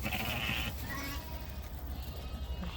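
Sheep bleat inside a farm barn, a few short calls rising over a low, noisy barn background, with faint human sounds nearby.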